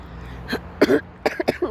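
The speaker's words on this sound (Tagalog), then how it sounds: "Sorry, inuubo ako ng konti." A few short, sharp coughs and throat-clearing bursts, close and loud, spaced irregularly over a quiet background.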